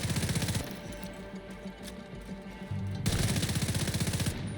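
A rifle firing in The Division 2, rapid automatic bursts with evenly spaced shots, loud and close, a burst, a short pause, then another burst.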